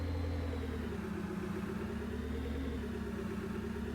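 Steady engine drone of a vehicle driving along at close to 60 mph in Farming Simulator 22, with a continuous low hum whose pitch wavers slightly and no voices over it.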